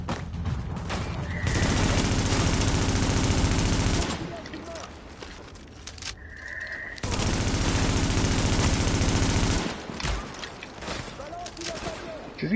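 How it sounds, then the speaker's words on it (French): Gunfire in The Division video game, two long sustained bursts of rapid automatic fire with scattered single shots between them, loud and close, with a voice speaking over parts of it. "Il y a un type qui me tire dessus, mais je vois pas où il est"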